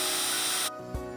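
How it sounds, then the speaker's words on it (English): A power drill pre-drilling a small hole in timber whines loudly and steadily close by, then cuts off abruptly, leaving a brief low mechanical settle and a quiet tail. "you're going to pre-drill a tiny hole just 5 centimeters from the edge"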